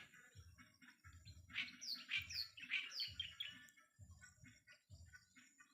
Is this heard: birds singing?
yes